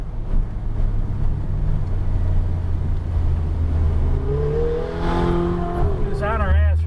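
A Porsche 911 GT3 RS engine drones loud and steady as the car accelerates around Palm Beach International Raceway, with rising pitch sweeps near the end, while people talk over it inside the car.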